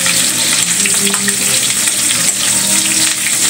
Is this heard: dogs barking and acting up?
no